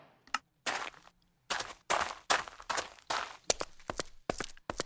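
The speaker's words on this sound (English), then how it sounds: "it basically just adds dynamic footsteps" Dynamic footsteps in Minecraft with the Presence Footsteps mod, a quick run of crisp, close steps in an uneven rhythm, loud and alone with short gaps between bursts.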